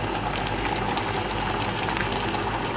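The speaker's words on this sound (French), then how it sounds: "Ça mijote là, ça mijote." Lamb simmering and sizzling in a pan with spices in a Paris restaurant kitchen, a steady close bubbling crackle with no pauses and no talk.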